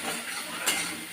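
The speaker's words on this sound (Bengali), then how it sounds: "দিয়ে পেঁয়াজটা দিয়ে দিয়েছি, পেঁয়াজটা একটু লাল লাল করে ভেজে নেব।" Onion frying in oil with dried chillies and five-spice, a steady soft crackling sizzle with one brief brighter pop, close and moderately loud, without talking.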